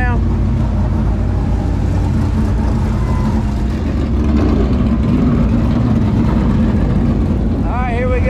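A dirt race car's engine drones loudly and continuously from the cockpit on a qualifying lap at All-Tech Raceway, with a steady roar throughout.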